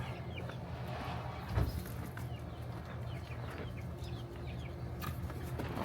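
Chickens cluck and call steadily around a backyard chicken coop under construction, with a sharper squawk near the middle and a continuous background of farmyard noise.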